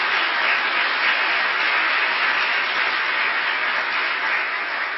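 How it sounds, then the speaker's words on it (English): Sustained, steady applause from an audience honoring law enforcement panel members at a community policing award ceremony, loud and even throughout with no talking over it. "So I want to give them a round of applause"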